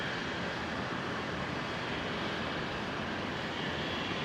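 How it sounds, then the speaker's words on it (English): A Jetstar airliner departs runway 19 right at Brisbane Airport, its engines a steady, distant broadband roar holding evenly throughout without speech. "So Jetstar 9 are just departing over there on 19 at right."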